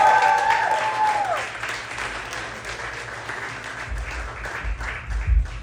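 A stand-up comedy audience bursts into loud applause and cheering for a comedian taking the stage, the dense clapping sustained throughout and slowly thinning toward the end.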